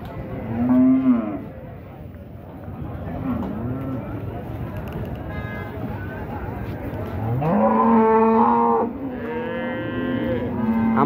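Dairy cows and calves at a cattle market moo loudly in several long, drawn-out calls, close by, with people talking in between and behind them.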